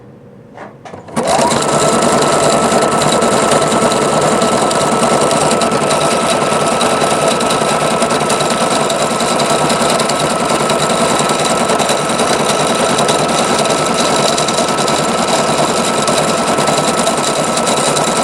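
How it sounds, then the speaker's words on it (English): After a brief quiet moment, a Singer sewing machine starts up and runs continuously, loud and rattling with a fast, steady mechanical clatter. "one thing I don't like about the Singers is the noise it makes when it sews"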